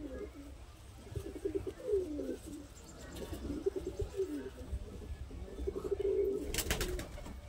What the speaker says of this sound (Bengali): একদম বিগ সাইজের পায়রা